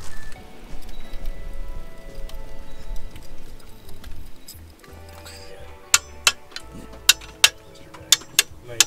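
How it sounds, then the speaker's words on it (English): Sharp metallic clicks from a torque wrench tightening the clutch bolts on a 1988 Toyota van, about eight distinct snaps in an uneven rhythm toward the end, preceded by quieter handling noises and faint rattles. "I've got all these bolts torqued to spec"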